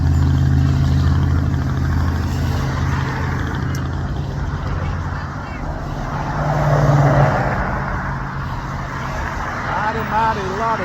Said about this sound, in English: Mighty lot of traffic out today.